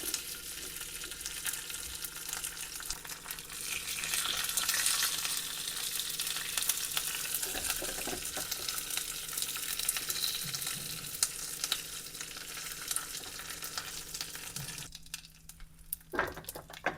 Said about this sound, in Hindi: और इसके लिए बनाएंगे हम तड़का